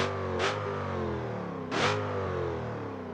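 A Hellcat-powered police car in BeamNG.Drive revs its engine twice, two sharp throttle blips rising over a steady, close, loud idle with no talking.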